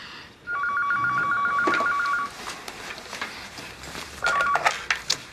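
Telephone rings in a quiet indoor room: a long electronic ring tone of about two seconds, followed by scattered handling noises and a second shorter ring burst near the end, with no talking.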